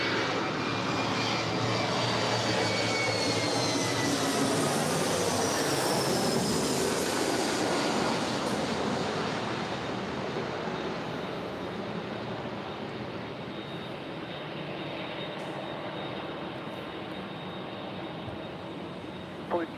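An airliner arriving on runway 24 left at LAX makes a loud, steady broadband roar that holds for about twenty seconds and eases off slightly toward the end, with no talk over it.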